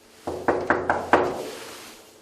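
Five firm knocks land on the door of a tax delinquent's home, evenly spaced and close, each leaving a short ring that fades into silence afterward.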